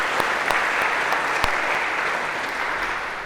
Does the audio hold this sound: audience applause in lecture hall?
yes